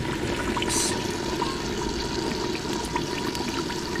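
Gravy being poured off from a pot of mutton daleem, a steady liquid pour and trickle that runs close and continuous throughout, with no voices.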